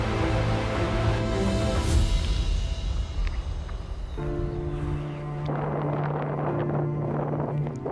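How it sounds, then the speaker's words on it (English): Wind blowing across a Himalayan mountain trail in Nepal's Manaslu region, a loud continuous roar with microphone buffeting that shifts in tone midway and stays strong throughout. "It got a bit windy after this point."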